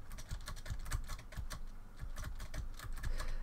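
Rapid, furious tapping on a computer keyboard spacebar, a steady stream of close, sharp clicks with no talking.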